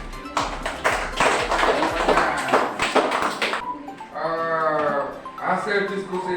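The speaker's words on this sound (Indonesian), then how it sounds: "Tepuk tangan" A classroom group claps after a discussion, a burst of scattered hand claps that fades into bleating-like voices and chatter.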